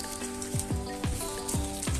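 Rain falling steadily on surfaces around a building, a soft continuous patter with scattered louder drops landing close by in an irregular rhythm.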